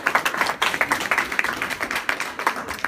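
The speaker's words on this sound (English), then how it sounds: "Big round of applause for Jared." Audience applause for comedian Jared Lowry at the Loony Bin comedy club, a dense run of overlapping hand claps that stays loud and steady throughout with no voices on top.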